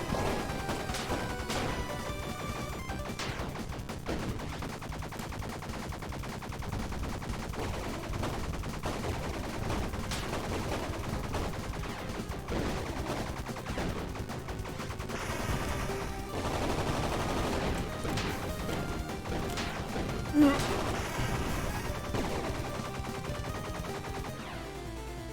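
Video game gunfire rattles on almost without a break, a dense, loud barrage of shots and crashes with one sharper bang standing out near the end.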